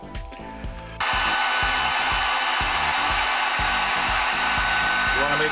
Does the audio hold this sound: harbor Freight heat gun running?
yes